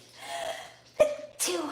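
A single sharp sneeze bursts out close by, followed a moment later by a second short vocal burst, with quiet talk murmuring beforehand during a livestream about making deer jerky.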